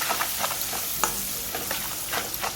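Onions and chillies fry in a pan with a dense, continuous sizzle, broken by several sharp crackles and spatters, close and fairly soft with no voices.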